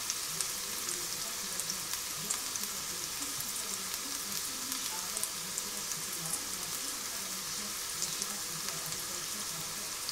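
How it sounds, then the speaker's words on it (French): Shallots sizzle in hot oil with a steady, even crackle, close and alone, with no voices. "Donc là j'ai fait chauffer mon huile. Je vais y mettre les échalotes."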